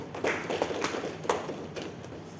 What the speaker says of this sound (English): So, a little round of applause for them